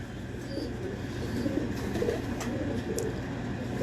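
Pigeons coo softly in the background of a pigeon keeper's loft, low murmuring calls over a steady ambient hum.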